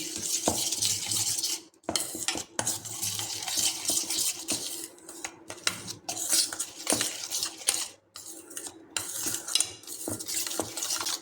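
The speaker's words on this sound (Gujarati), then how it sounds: "તો ઘી ખાંડ અને સફેદ તલને આપણે અહીંયા આ રીતે મિક્સ કરી લેવાનું છે" A spoon scrapes and clinks steadily against a bowl while mixing a thick mixture of ghee, sugar and white sesame seeds, close and continuous with brief pauses, no voices.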